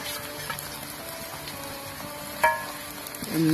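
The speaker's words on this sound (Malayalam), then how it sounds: "നമുക്ക് ഇനി അടുത്തത് ഇഞ്ചി വെളുത്തുള്ളി പേസ്റ്റ് ഇതിലിടാം" Quail frying in a pan with ginger garlic paste: a steady soft sizzle and crackle throughout, broken by one clatter of stirring and a brief metallic scrape near the end, with no voices.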